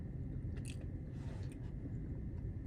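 Someone chewing and biting their own lip makes soft, wet mouth sounds with a few small crunchy clicks. They are close and steady, over a constant low room rumble.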